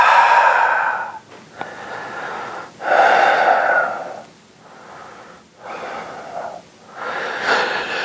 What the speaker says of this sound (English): Big inhales, slow exhales.